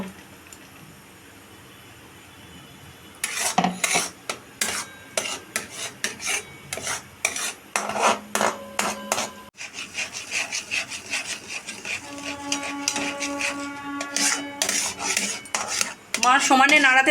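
Spoon scraping and clinking against a wok as a ripe mango mixture is stirred on a stove, brisk irregular strokes starting after a few quiet seconds and continuing steadily, close and fairly loud.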